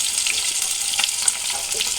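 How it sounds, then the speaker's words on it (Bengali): Katla fish pieces fry in hot oil in a pan, giving a steady, close, bright sizzle with faint crackles and no talking. "একটু লাল লাল করে মাছটা ভেজে নেব।"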